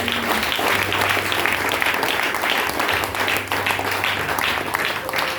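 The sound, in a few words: church congregation applauding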